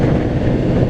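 Wind buffeting a microphone while riding a Honda CBR600RR motorcycle in windy conditions, a loud, dense rumbling roar that holds steady through the short moment.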